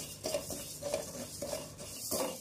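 Moong dal dry-roasting on a low flame, stirred in a pan with repeated scraping strokes and soft rustling sizzle, close and fairly quiet.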